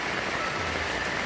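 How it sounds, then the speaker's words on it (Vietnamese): Heavy rain falls in a dense, even hiss of drops on surfaces, loud and unbroken throughout the short stretch, with no voices. "mưa quá trời rồi"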